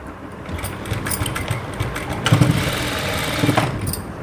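A sewing machine stitching a blouse side seam, a close, rapid mechanical whir and chatter running continuously, with small clicks as the needle drives through the fabric.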